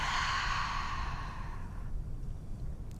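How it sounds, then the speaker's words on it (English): A long, audible exhale through the mouth during a yoga breathing exercise, a soft airy rush close to the microphone that slowly fades, with no talking. "inhale through the nose and exhale through the mouth."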